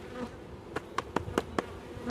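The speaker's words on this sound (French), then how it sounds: "Je vais retirer les 2-3 abeilles qui est dessus" Honeybees buzzing around a hive frame during a beekeeper's colony inspection, a low hum broken by several short, sharp buzzing bursts of individual bees flying close by.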